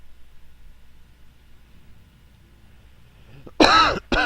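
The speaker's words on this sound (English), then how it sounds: "sorry for coughing into the microphone, guys" A cough into a headset microphone cuts in suddenly after quiet background hiss: one loud, close, harsh burst followed by a second short burst.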